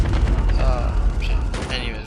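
Shotgun fire in Call of Duty Mobile: a quick volley of loud, booming blasts that crowd together with clanking weapon mechanics over barely two seconds.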